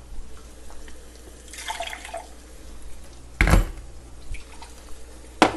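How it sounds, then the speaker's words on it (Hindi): Water is poured into ground spice paste frying in a pan, giving a brief splashing pour followed by a sharp sizzle and a few soft drips and clatters, with no one speaking. "इसमें थोड़ा सा पानी डालते हैं।"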